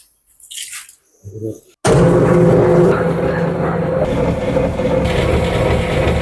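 A feed mixer machine blending animal feed with water and molasses starts up abruptly and runs as a loud, steady churning drone, after a few quieter moments of faint handling sounds.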